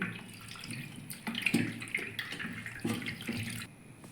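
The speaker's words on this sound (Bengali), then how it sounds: "ছানাটা ভালো করে ঠান্ডা জল দিয়ে দুই তিনবার ধুয়ে নিতে হবে" Homemade paneer chhana is rinsed with cold tap water, making a close, steady running-water sound with uneven splashes as the curds are handled. No one speaks.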